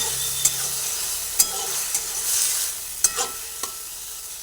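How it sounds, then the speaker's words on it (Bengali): Lightly boiled mung dal is stirred in a hot pan, a constant bright sizzle broken by several distinct scrapes and taps of the spoon at irregular intervals. "মুগ ডালটা আমি আগে দিয়ে একটু নাড়াচাড়া করে নিচ্ছি"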